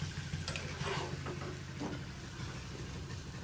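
Spices with salt and turmeric sautéing in a pan at home, with a soft sizzle, light stirring scrapes and a few clinks over steady low kitchen hum.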